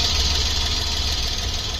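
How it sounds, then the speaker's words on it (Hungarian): Steady idle of a Toyota Yaris 1.0 three-cylinder petrol engine heard up close, an even low throb with a slight knocking pulse beneath a continuous hiss, with no voices over it. "Azt mondja, hogy akkor itt az 1000-es motorunk, ugye 3 hengeres benzinmotor."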